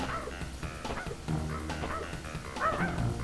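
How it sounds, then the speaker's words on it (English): A dog barks and yips in the Crash Bandicoot 2 video game, a few short close barks over game music and effects. "Good dog. Well, come here, dog."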